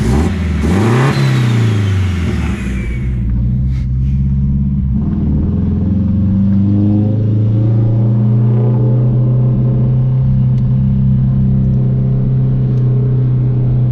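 Turbocharged Honda CR-V engine revving up hard at the start, then settling into a loud, steady drone with a strong low rumble.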